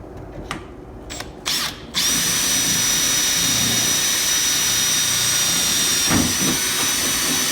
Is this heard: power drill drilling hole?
yes